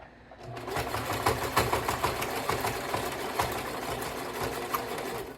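A sewing machine runs at steady speed through a reverse stitch, its fast rhythmic needle clatter and motor whir close and continuous for several seconds after a brief quiet start.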